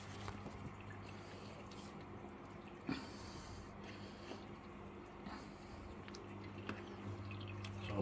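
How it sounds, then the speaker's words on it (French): Water from a Fluval FX6 aquarium filter on a 1000-litre tank drains steadily through a hose, a soft continuous trickle with occasional drips and gurgles, faint and close, with no talk over it. "On l'ouvre. Hein, l'eau commence tout de suite à couler."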